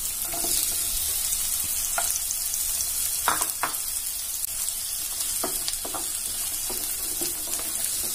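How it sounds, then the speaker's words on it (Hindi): Chopped onions and a medium bell pepper in large pieces fry in a pan for veg manchurian gravy, giving a continuous even sizzle with occasional soft clinks from stirring, no voices. "इनको हल्का सा गोल्डन ब्राउन होने तक हम इन्हें अच्छे से फ्राई करेंगे।"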